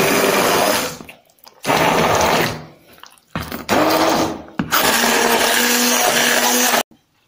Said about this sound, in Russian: теперь для однородности мы это разобьем блендером все.